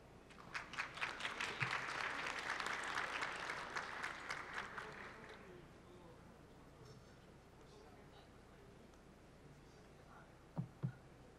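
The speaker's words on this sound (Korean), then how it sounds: "여러분 박수 부탁드립니다." Audience applause at a green medical health culture forum, a burst of many hands clapping together that swells then fades out over several seconds, followed by a quiet room with a few faint knocks.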